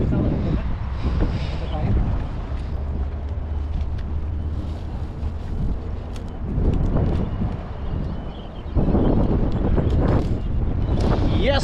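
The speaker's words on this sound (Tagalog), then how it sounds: "malakas po yung hangin" Strong wind buffets the microphone in heavy low rumbling gusts over open water off Taiwan, with someone talking on and off through it.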